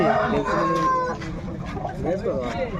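A fighting rooster being readied for a Sankranti cockfight in Mydukur gives a close, strained crow-like call, followed by clucking, while people talk nearby.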